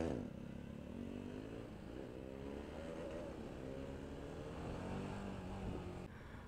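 A KTM Duke motorcycle engine accelerates hard in a single gear, its revving drone climbing steadily and staying loud and close throughout.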